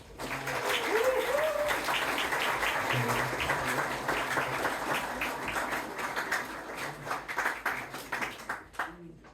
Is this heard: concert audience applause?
yes